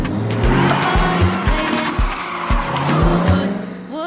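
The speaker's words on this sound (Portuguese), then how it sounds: "que pegou o carro e vai correr atrás da menina" A car speeds off with tires screeching in a music video, the squeal and engine surge loud and sustained over a steady pulsing beat.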